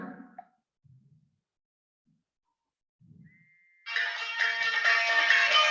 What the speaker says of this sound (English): I have to answer the phone for a minute.